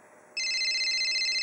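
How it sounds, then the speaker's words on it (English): A phone starts ringing with an incoming call, its steady electronic trill kicking in abruptly and staying loud and continuous after a brief quiet moment. "Hold on, I'm getting a phone call."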